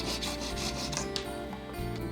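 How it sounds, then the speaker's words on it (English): A guitar nut is sanded by hand in steady back-and-forth strokes, a close, dry, raspy rubbing that repeats at an even pace with no voices. "This isn't just sanding, this is thoughtful sanding."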